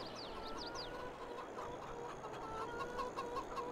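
Chickens cluck softly in a farm pasture in the game Farming Simulator 22, faint scattered calls over a quiet background hum.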